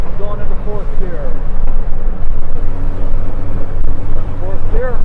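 VW 1.9 diesel engine in a Toyota LandCruiser 40 series, droning and vibrating loudly inside the cab as it drives in fourth gear, with someone talking over the noise.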